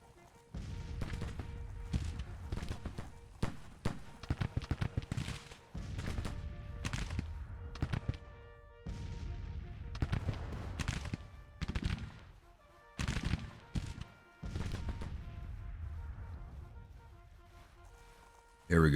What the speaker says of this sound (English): Ooh, that was a nice initial volley right there